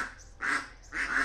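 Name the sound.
ducks quacking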